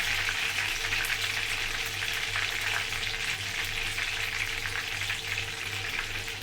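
Tilapia fish frying in hot oil, a dense, steady crackling sizzle with small pops, close and continuous without a break.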